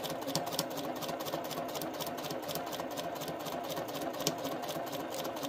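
A sewing machine stitches African fabric for a quilt with a steady, rapid needle rhythm throughout, close and evenly loud with no talking.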